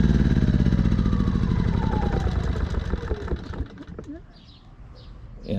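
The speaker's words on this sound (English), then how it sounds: "I'm gonna go ahead and kill the engine from the remote here." Ryobi inverter generator shut off by remote: its steady close engine hum runs, then winds down and fades to a low quiet over the last seconds.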